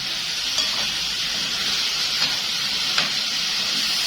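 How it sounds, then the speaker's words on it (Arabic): Potatoes frying in a pot over high heat, a steady close sizzle with a few soft scraping stirs of a utensil against the pot. "انا بقلبها كل شويه عشان ما تتحرقش مني والبطاطس تلزق معايا في الحله"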